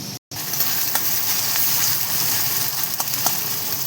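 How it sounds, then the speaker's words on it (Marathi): Chopped onion sautés in a hot pan with a steady, bright sizzle that runs almost the whole time, broken by a brief gap near the start and a few faint stirring scrapes. "तसं आपण कांदा परतून घेऊया छान"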